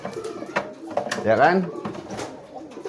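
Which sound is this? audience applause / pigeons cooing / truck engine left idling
pigeons cooing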